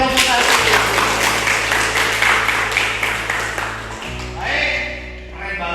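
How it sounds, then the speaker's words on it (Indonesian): A classroom group claps for a student's group presentation, a brief round of applause that fades within a few seconds while talking comes in near the end. "Kasih tepuk tangan untuk Jiko dari kelompok 1."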